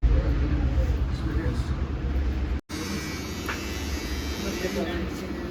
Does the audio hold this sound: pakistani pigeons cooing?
no